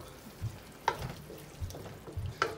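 Tomato and green chili added to softened onions in a pan, with a quiet fry broken by a few sharp clinks and scrapes of stirring.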